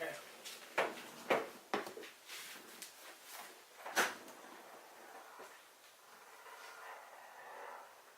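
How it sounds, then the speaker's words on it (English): A garage door opens with a series of sharp clanks and knocks, followed by a longer hissing, rattling rumble as it moves. Voices talk nearby. "let me open the door."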